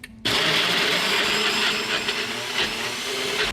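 A blender starts abruptly and runs hard, mixing carnivore mayonnaise of fat with salt, black pepper, garlic powder, onion powder and paprika. The loud, steady whirring grinds on with slight wavering and no talk over it.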